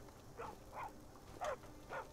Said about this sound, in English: We can hear a dog barking.